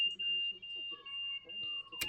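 A train vigilance alarm in Train Sim World 5, a steady high electronic tone sounding continuously with fainter secondary tones, ending in a short sharp click, with a voice talking quietly underneath.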